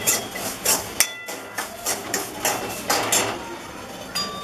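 Raisins and cashews being stirred into sheera in a pan, with a spoon giving a steady series of sharp metallic clinks and scrapes against the pan, close and fairly loud.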